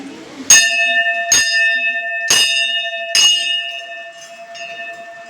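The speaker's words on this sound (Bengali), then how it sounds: "ঘন্টাটা বাজাচ্ছি" A temple bell at the Baba Loknath temple is struck four times in a steady rhythm, each loud, close clang ringing on with a long metallic sustain, followed by a fainter fifth strike.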